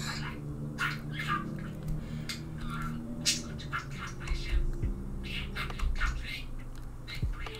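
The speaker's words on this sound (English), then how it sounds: "Can you guys hear my bird laughing?" A pet bird gives a string of short, laugh-like vocal bursts at irregular intervals, close and moderately loud over a steady low background hum, with no clear talking.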